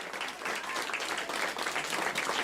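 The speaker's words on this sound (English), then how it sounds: "In the room there at the Jet Propulsion Laboratory erupting in applause." Applause erupts in the room at the Jet Propulsion Laboratory as the Europa Clipper spacecraft signal is confirmed, a dense, loud, sustained wash of many hands clapping.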